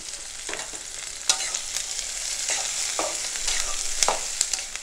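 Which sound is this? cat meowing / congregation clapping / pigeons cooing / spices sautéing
spices sautéing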